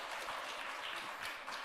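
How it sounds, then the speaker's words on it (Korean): Applause during a church dedication service, a steady wash of clapping from a congregation that runs evenly through the whole short stretch with no voices over it. "예, 박수로 격려하겠습니다."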